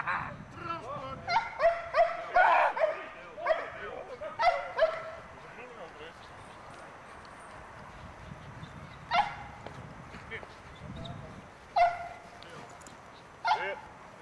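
During a protection dog stick-and-throw exercise, a dog lets out bursts of sharp barks and yips that turn into whimpers, with pauses between them and people talking nearby.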